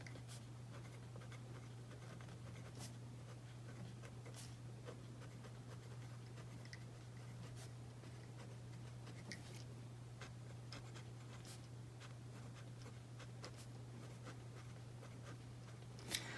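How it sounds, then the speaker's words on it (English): A pen scratches quickly across paper in quiet handwriting strokes, with soft repeated scrapes and brief taps, close and faint over a steady low hum. "So that's how I would write that with this particular pen on this particular paper if I was writing quickly"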